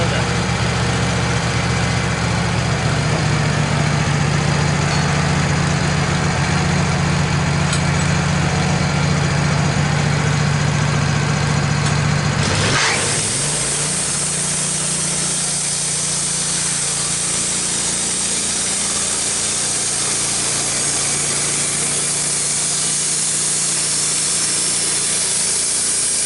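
Woodmizer LT15 sawmill cutting boards from a white pine log: a steady engine drone with a cutting whine that shifts abruptly midway into a brighter, airier hiss that carries on to the end.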